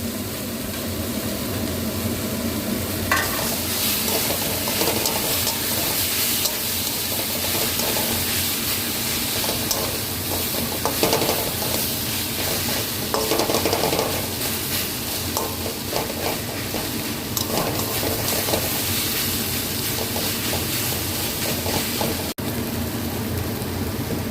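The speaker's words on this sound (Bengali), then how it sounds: "এবার ঢাকাটা খুলে আমি বড়িগুলো দিয়ে দিলাম।" Lentil dumplings (bori) fry in a pan with a steady, continuous sizzle and occasional stirring scrapes, close and even throughout, with no talking.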